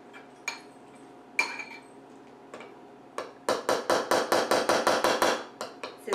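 A spoon mixing breakfast in a bowl, heard close up as a few scattered clinks followed by a fast run of sharp, regular taps against the bowl.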